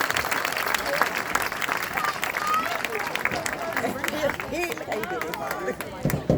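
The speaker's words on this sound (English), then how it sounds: "Class of 2019, give them applause. Give them an applause." Graduation ceremony audience applauding the parents and guardians of the graduating class, a loud burst of clapping mixed with crowd murmur that carries through and thins slightly toward the end.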